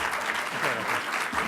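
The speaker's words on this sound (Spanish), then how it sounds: "Queremos agradecer al doctor José Félix Lozano con un fuerte aplauso" Audience applause following a talk at a communication seminar conference, a steady wash of many hands clapping at moderate volume, filling the whole moment without speech.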